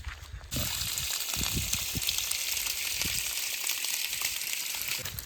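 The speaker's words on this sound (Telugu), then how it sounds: "చూడండి మామ ఇప్పుడైతే సెట్ అయితే కడిగేస్తున్నాము నీట్గా" Water splashes and trickles steadily as a clay cooking pot is washed outdoors for village-style wood-fire cooking, with scattered soft knocks and drips close by.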